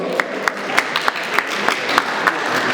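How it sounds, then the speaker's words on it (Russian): A few scattered, sharp claps ring out at an audience gathering for a discussion forum opening, spaced irregularly against a faint room background rather than a full round of applause. "Аплодисменты друг другу."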